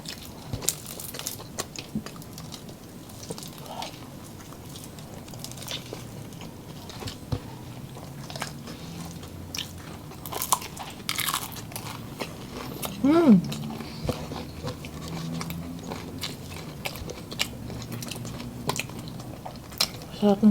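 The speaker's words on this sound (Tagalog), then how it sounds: "Try ko na po itong peach mango pie." Biting and chewing a Jollibee peach mango pie, with soft close crunches and mouth sounds scattered over about twenty seconds amid background murmur.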